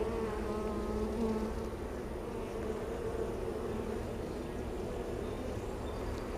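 Honeybees drone in a dense, steady buzz close by as a beehive is opened for inspection, with a continuous hum and no talking.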